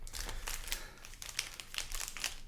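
A Modern Horizons 3 booster pack's foil wrapper crinkling and crackling up close as it is handled and opened, continuous papery rustling with a few sharper crackles.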